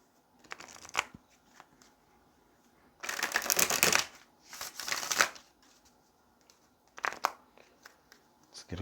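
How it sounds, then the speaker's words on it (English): Tarot cards being shuffled by hand in several separate bursts of riffling and rustling, close and fairly quiet, with brief pauses between the rounds and no talking. "Let's get a couple of more shuffles before we ask Spirit for our message."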